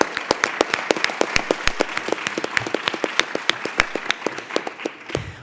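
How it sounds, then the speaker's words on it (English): An audience at a law association event gives a round of applause for an honoree. The claps are crisp and distinct with a fairly regular rhythm, moderately close, and go on for about five seconds before fading out. "Can we give her a round of applause, please?"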